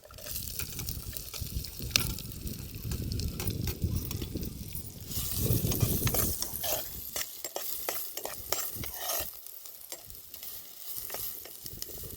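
Fennel seeds sizzle in hot oil as onions go in, with steady frying crackle and scraping stirs over about twelve seconds, a louder burst midway, then quieter sizzling with clicks of the spoon.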